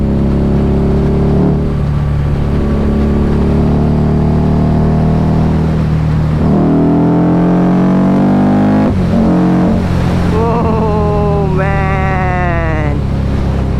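A modified Harley-Davidson Night Rod's exhaust drones loudly and continuously while riding, with the pitch sweeping up and down through several revs and a sharp climb near the end.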